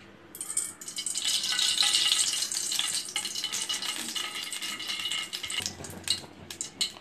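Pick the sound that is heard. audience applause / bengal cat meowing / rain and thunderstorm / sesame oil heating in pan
sesame oil heating in pan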